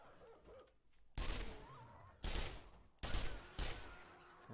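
Gunshots fired at a zombie dog in the survival game 7 Days to Die, Alpha 17, come as four loud, sharp bursts spaced about a second apart, each ending in a short ringing decay.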